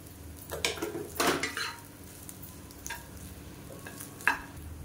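Vegetable masala rice being stirred in a pan, with several distinct scraping knocks of a spoon against the metal and faint sizzling between them.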